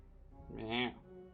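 Pet cat meowing once, a rising and falling harmonic call lasting about half a second, close and moderately loud in an otherwise quiet room.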